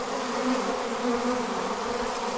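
A swarm of honey bees fills the air with a dense, steady buzzing hum, close and continuous, with no voices.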